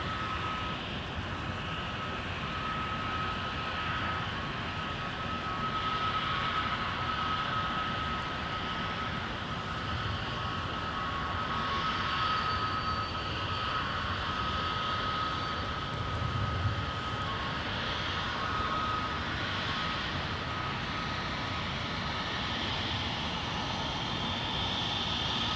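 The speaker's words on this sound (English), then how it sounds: "our A321neo is just going to continue its trek across MSP South Parallel Runway." Airbus A321neo jet taxiing across the south parallel runway at Minneapolis–St. Paul airport in winter, a steady distant engine roar and whine held evenly throughout with no talk.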